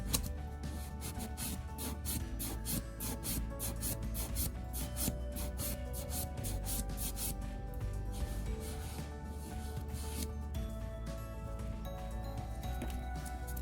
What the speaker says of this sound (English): you can file that away. And that's what the banana file is great for, with that curve.